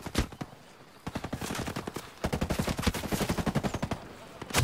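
Rapid gunfire in the video game Tom Clancy's Ghost Recon Breakpoint, with a few single shots and then long bursts of automatic fire, loud and close, with a brief quieter gap between volleys.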